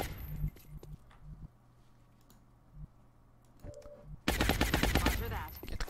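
Suppressive gunfire rattles in the video game XCOM Long War: scattered faint clicks and tones at first, then a loud, sustained burst of automatic fire fills the last seconds.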